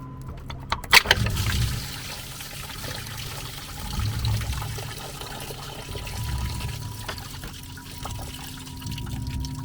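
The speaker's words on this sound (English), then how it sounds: "It's a lot of water." Water pours and splashes steadily out of a BMW E36 engine, a continuous gush with a couple of clanks near the start, loud and close.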